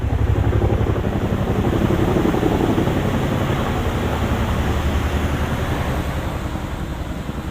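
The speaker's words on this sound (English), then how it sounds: "Been hearing the helicopters flying overhead for a while now" Helicopter passing overhead above a wooded trail near Rausch Gap, Pennsylvania: a steady, fairly loud rotor thrum with rhythmic low blade chop that continues throughout and eases slightly toward the end, with no talking.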